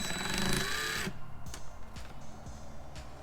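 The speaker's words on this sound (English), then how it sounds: "with this ratchet, it's a little tight" A ratchet tightens bolts while a rock guard is installed on a Camaro. A loud whirring burst is followed by quick clicking ratchet strokes close up.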